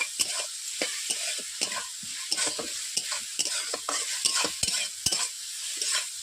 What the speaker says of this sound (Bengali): মশলার সঙ্গে পেঁয়াজ কলিগুলোকে একটু ভালোভাবে কষিয়ে নিচ্ছি।